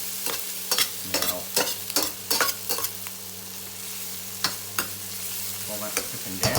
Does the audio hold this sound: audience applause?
no